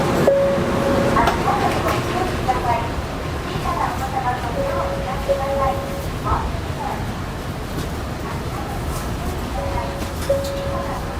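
A Tokaido Shinkansen Nozomi bullet train running, with a continuous loud rumble and rushing noise from inside the car and a few brief tonal chimes or beeps over it.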